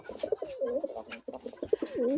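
Soft, throaty king pigeon coos repeat several times close by, rising and falling in a rolling rhythm with brief pauses between calls.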